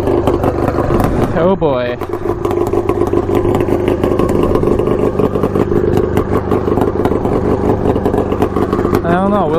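A custom Yamaha Banshee ATV tuned to 110 hp roars loudly and steadily at full throttle with the drag bar in use, a dense close engine drone filling the whole stretch under a brief spoken exclamation.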